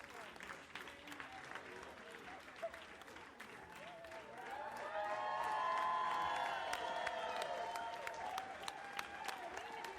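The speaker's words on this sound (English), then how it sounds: "Round of applause." Faint applause with some crowd cheering swells and fades over a soft background during a play session of Slay The Princess, heard at a distance under low ambient noise.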